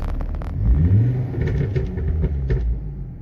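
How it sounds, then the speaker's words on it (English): A Ford Focus ST Mk2 engine with a high-flow induction air filter rumbles close by and gives a quick rev, a short surge of low growl that settles back to a rough idle. "start the engine for you, give you an idea of what it sounds like at the moment."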